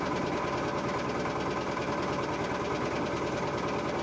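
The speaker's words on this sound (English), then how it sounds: "the harsh crackle of the outboard motor" A steady, harsh mechanical drone of an outboard motor on a boat on a lake runs continuously and loudly, with a rapid buzzing rattle and no pauses.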